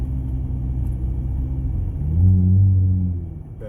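A Dodge Journey with a sport tune and the speed limiter removed drives along, its engine giving a steady low rumble that swells briefly midway, with no talking.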